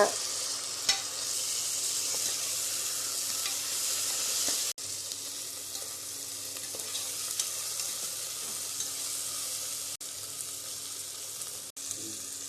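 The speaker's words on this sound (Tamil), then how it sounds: "தக்காளி பழத்தை போட்டு நல்லா வணக்கி விடுங்க." Tomatoes sizzle in hot oil as they are stirred in a pan for mushroom biryani, a continuous loud frying hiss with occasional soft scraping and brief breaks.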